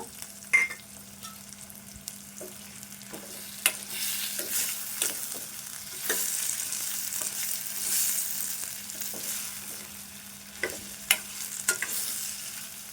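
Two small chopped tomatoes tipped into frying masala for a soya chunk curry, a soft steady sizzle with scattered spoon taps and scrapes against the pan, fairly quiet and close.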